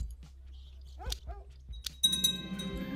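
Short yips and whimpers from a dog in the medieval strategy game Crusader Kings 2, several brief calls over quiet game music, followed by a bright chime and a rising swell of music.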